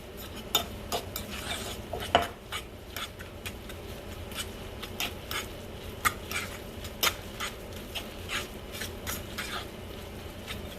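A spoon stirring a seasoning mix with parsley and garlic salt in a bowl, giving soft, close scraping and clinking taps in an irregular rhythm, quiet and steady throughout.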